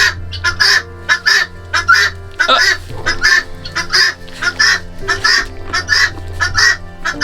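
A guinea fowl calls loudly and repeatedly close by, harsh rhythmic honking squawks in quick bursts, with faint background noise between calls.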